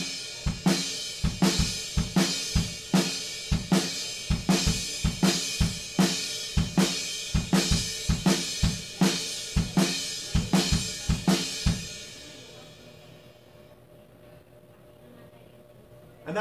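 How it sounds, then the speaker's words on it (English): A drum kit plays a steady groove, snare on four beats to the bar with kick drum filling the gaps, punchy and close, for about twelve seconds before the hits stop and only a faint ringing tail remains. "we're going to have snare drums, four beats to the bar, and fill in the gaps with the kick drum"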